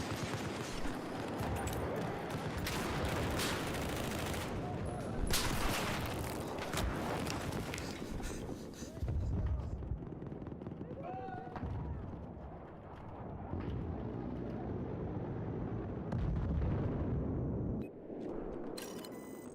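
Gunfire and explosions from the shooter game Bad Company 2, with dense bursts of shots and booms, loud and sustained for long stretches, easing briefly in the middle before picking up again.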